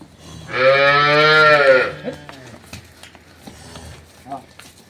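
A cow just let out of a shed lets out one long, loud moo lasting over a second. Afterward people talk nearby, with a few thuds and shuffling sounds.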